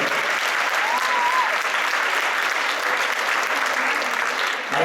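A crowd at a head-shaving fundraiser gives sustained applause, dense and loud from start to finish, with a brief whistle or cheer rising above the clapping early on.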